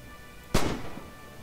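A single loud, sharp gunshot in the World War II shooter Red Orchestra 2, booming close and then decaying quickly into the quiet background.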